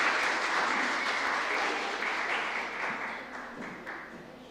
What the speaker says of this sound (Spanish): Vamos a recibir con un fuerte aplauso a Jonathan Pataquiva